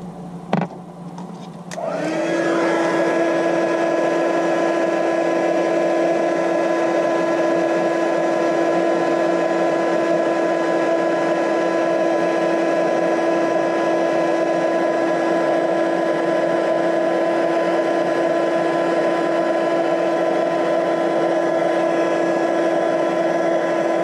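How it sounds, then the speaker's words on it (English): Steady, loud whirring blow of an embossing heat tool melting powder on a leaf stamped onto a handmade fall card, starting after a brief click and running unbroken for over twenty seconds with no talk. "I'm going to heat up that last leaf"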